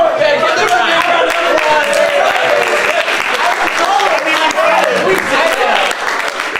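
A dense, loud burst of audience applause at an improv comedy show keeps up for several seconds, with voices talking and calling out over the clapping.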